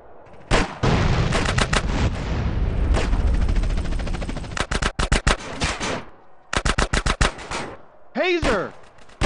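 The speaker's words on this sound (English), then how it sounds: "That's a rocket launcher." Gunfire and explosive blasts in GTA San Andreas: dense, loud sustained shooting followed by clusters of sharp rapid bursts, with a brief whooshing sweep near the end.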